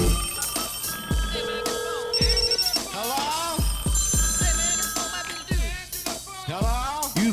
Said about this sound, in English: I have created a brand new audio stinger for the phone lines.